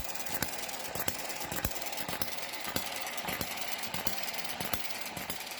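A model hit-and-miss engine runs steadily, giving sharp, evenly spaced firing knocks with a light mechanical rattle between them, close and clear.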